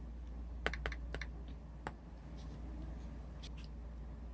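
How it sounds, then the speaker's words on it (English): Light, sparse keystrokes tapped on a keyboard, a handful of quiet clicks over a low steady hum, faint and close. "I can put in a text box to type things out if I want to."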